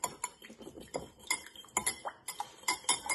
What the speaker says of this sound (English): I'm just gonna whisk that up